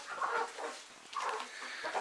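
Chickens on a homestead flock with three roosters, giving a couple of soft, mid-distance clucking calls in quick succession.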